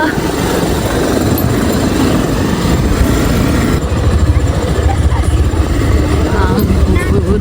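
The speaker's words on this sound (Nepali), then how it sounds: "अगाडि अगाडि बाइकले चाहिँ एकदम धुलो उडाएर जाँदैछ।" A motorcycle rides along a dusty rural road from Tamku to Bhojpur, giving a loud, constant engine drone with rough wind buffeting throughout.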